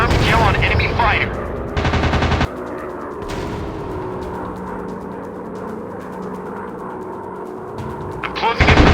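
Bursts of machine gun fire rattle out loud and close at the start and again at the end, from a WWII fighter-plane dogfight video game, while a radio-style voice speaks over the engine drone between them.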